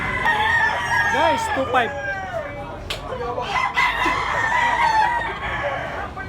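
A bullstag gamecock at a market in Tabunok, Cebu gives a few crows and clucks amid other fowl, under steady background chatter and a brief spoken remark.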